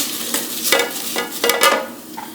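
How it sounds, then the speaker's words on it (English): Potatoes being stirred in an air fryer basket, with several scraping, rustling strokes of moderate loudness over a faint sizzle, close by and without talk. "Give our potatoes a stir"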